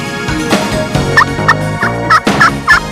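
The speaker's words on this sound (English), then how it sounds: "The many sounds produced by the wild turkey are unique" Wild turkey gobbling in repeated bursts, about five quick rattling gobbles spaced roughly a third of a second apart, loud and close over a steady outdoor background with no talking.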